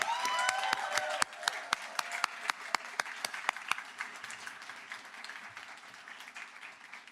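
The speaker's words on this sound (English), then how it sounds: "let's begin also by having a round of applause for all the families, friends, and supporters in the room" Applause from a graduation ceremony audience honoring families, friends and supporters, starting as dense clapping with sharp individual claps standing out, then thinning and fading over several seconds in a hall.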